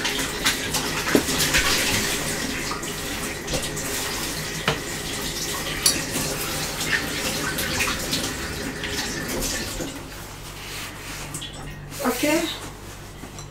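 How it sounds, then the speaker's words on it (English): Running tap water splashes steadily into a container being washed in a sink, with intermittent clunks and rinsing sounds. Voices talk nearby and a dog can be heard faintly. "let me wash this one, put fresh water again in it"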